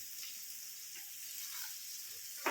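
Chopped shallots and curry leaves frying in hot oil for Kerala ginger pachadi: a soft, steady sizzle at low volume, with a brief clink near the end.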